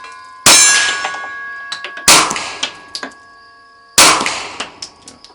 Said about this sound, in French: Là, je tire à l'extérieur, vous entendez un petit peu le bruit.